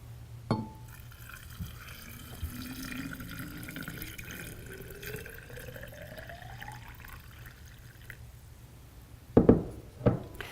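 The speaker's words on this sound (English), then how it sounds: "And then you're going to add your water." Water pours quietly into a container of fruit and herbs, the pitch rising steadily as it fills, with a couple of clinks and splashes near the end.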